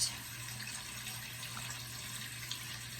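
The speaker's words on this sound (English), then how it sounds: "I'm going to go ahead and pour half of it into here to start" A cup of cold water pours into a blender jar as a steady, gentle trickling stream with a low hum underneath, close and alone.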